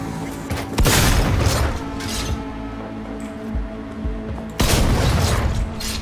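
Gunfire in the video game Cyberpunk 2077, with loud sharp booming shot bursts near the start and again near the end over a steady game soundscape.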